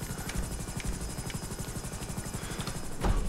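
A helicopter in GTA 5 Online thrums nearby with a fast, steady rotor chop and a high whining buzz, continuous and loud, swelling slightly at the end, with no talking over it.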